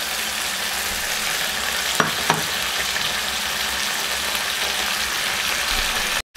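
Pork frying in a pan produces a loud, unbroken hiss of sizzling fat up close, with two faint clicks early on before it cuts off abruptly.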